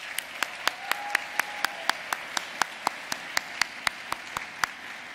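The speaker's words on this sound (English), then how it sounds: "Please give all of our Diversity Achievement and Mosaic Award winners another round of applause" Evenly spaced single claps ring out one after another at a steady, quick pace during an awards ceremony, each sharp and distinct over a quiet, faint room background.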